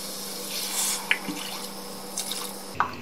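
Water is poured into a pan of drumstick curry (sahjan ki sabji), making a steady trickling splash with a few brighter drips and plops, close by and without any talking.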